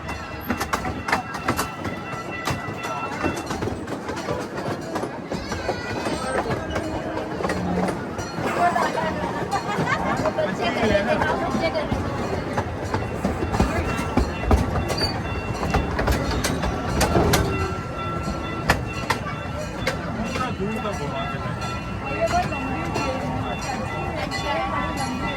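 A steam-engine-style train ride at the Kemah Boardwalk rolls along its rails with steady clattering and rumble, irregular clicks and knocks throughout, while an announcer's voice talks over the ride.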